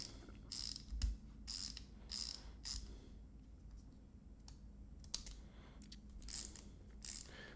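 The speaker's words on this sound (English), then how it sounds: "So here's the ratchet screwdriver." A Husky 12-in-1 ratcheting screwdriver clicks in quick bursts of sharp ratchet ticks, several separate runs with short pauses, close and fairly quiet with no speech.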